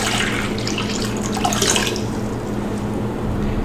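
Cold water runs from a tap into a bowl, a steady splashing stream that brightens midway and then settles into a softer, lower fill.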